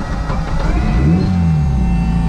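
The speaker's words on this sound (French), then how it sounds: "Là la voiture est démarrée, c'est fou le bruit" A race car engine with a sequential gearbox starts and runs steadily and loudly up close, with a low rumble and a brief rising rev partway through.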